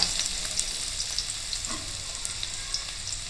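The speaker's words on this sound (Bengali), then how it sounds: "এবার এই আদাটা দিয়ে দিলাম, দিয়ে একটুখানি নেড়ে নেব ভালো করে।" Finely chopped ginger sizzles in hot oil and ghee in a pan, a steady close frying hiss with light clicks of stirring and no talk.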